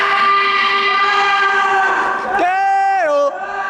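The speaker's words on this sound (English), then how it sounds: "I thought there was a train coming through" Loud, sustained multi-tone train horn sounding close by for several seconds, then sliding down in pitch as it passes, with a rumbling rail background throughout.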